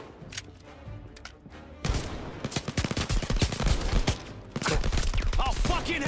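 Rapid gunfire rattles in the virtual reality shooter Blood and Truth, sharp shots in quick bursts that start sparse and faint, then grow loud and dense, with brief pauses between volleys.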